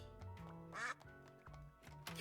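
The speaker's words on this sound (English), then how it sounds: "Forgot about the quacking button." Cartoon duck quacks from the Duck Detective video game, a quick series of bright, nasal honks over a steady game music bed, loud and close with a final burst near the end.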